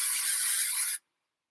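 A can of spray adhesive hisses in one continuous, close, loud burst for about a second, then cuts off abruptly into silence.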